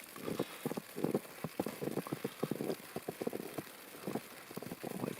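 Snow or rain patters on a big umbrella during a walk near an off-grid log cabin in a snowstorm, a faint irregular series of soft close taps with quiet gaps.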